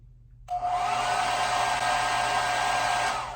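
A hair dryer switches on abruptly and runs with a steady, loud whine and airy rush close by while drying curly hair.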